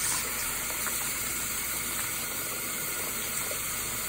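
Running tap water rinsing shampoo out of a makeup brush, a steady soft hiss and gush of flowing water at moderate distance with no talking.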